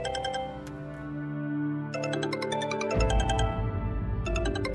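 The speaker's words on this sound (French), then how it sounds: "Votre téléphone sonne en continu." A mobile phone rings in a home, its bright electronic tone repeating in short bursts over a low, steady music bed, with a pause before the ringing returns.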